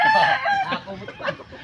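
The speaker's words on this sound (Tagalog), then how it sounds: "may mga manok pa, oh" Chickens and a crowing rooster in Bulacan, heard up close: a loud, drawn-out crow over steady clucking, with faint voices in the background.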